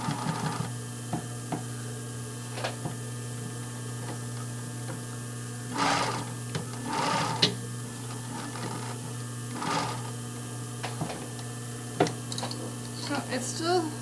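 A sewing machine runs in short bursts, stitching back and forth over the same spot to reinforce a thick seam, its motor whirring close over a steady background hum, separated by brief quiet gaps.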